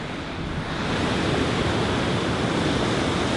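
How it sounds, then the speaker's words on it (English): Rough, full-on ocean surf roars continuously and loudly, a dense unbroken wash of crashing water with wind noise on the microphone. "Check out the ocean, it's full on today."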